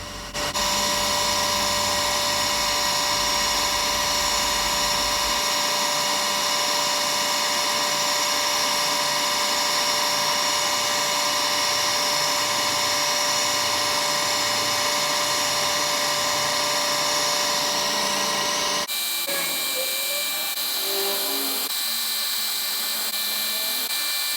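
A power drill whines loudly and continuously, grinding into a motorcycle cylinder head with a high steady pitch, then shifts to a thinner, lighter whirr near the end.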